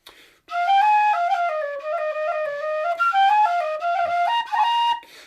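A Weston tin whistle plays a short run of clear, bright notes using a cross-fingered C natural, moving stepwise up and down with a steady breathy tone, alone and close.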